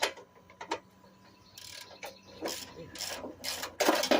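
A wrench works a seized jacket bolt on an old push mower being dismantled, giving a series of short metallic ratcheting clicks and scraping bursts in an uneven rhythm, close and moderately loud.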